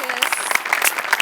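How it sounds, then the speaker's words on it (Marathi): An audience at a live comedy show applauds, with a short burst of scattered claps and light voices mixed in. "सचिन सरांसाठी एकदा जोरदार टाळ्या."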